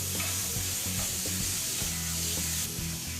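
Beef pieces for a chunky Aussie beef pie browning in a hot pan, a steady close sizzle with faint scraping and stirring sounds underneath.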